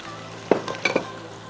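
Chicken hitting hot masala in a pan, a steady sizzle with a couple of sharp spatters and a light clink of a utensil, close and brief, no talking.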